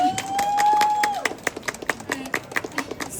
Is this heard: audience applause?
yes